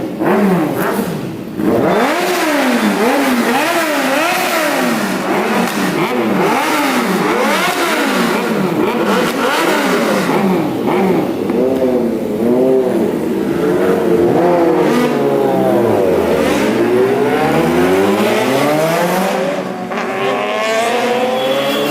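A 2021 Kawasaki ZX-10R sportbike with a Racefit exhaust making repeated loud, close flybys, engine revving and rising and falling in pitch as it passes, with no talk.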